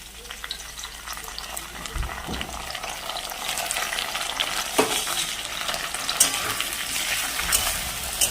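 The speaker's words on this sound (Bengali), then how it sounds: "মশলাটা দিয়ে ভালো করে কষাবো" Ground spice paste stir-fried in a pan over radish and potato pieces for a fish curry, giving a steady close sizzle with scraping stirring strokes throughout and no talking.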